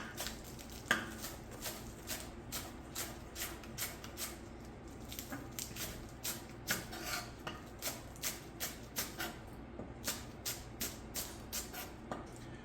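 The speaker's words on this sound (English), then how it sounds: "I'm going to go ahead and prep my onions." Kitchen prep of onions for a garnish, with a steady run of light knife taps on a cutting board, evenly paced clicks and knocks at close range with faint clatter in between.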